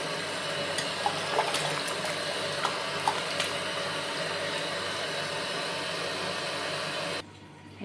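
Tap water runs steadily while raw Qurbani meat is washed in a Qatar kitchen, a constant rushing stream with a few light clatters, cutting off abruptly near the end.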